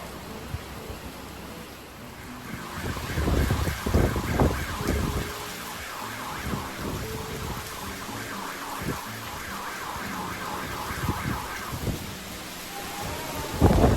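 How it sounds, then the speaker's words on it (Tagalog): Super typhoon storm with heavy rain pouring on surfaces and strong wind, while deep thunder rumbles roll in the middle and a whistling wail runs through, loud and close. "Grabe yung bagyo."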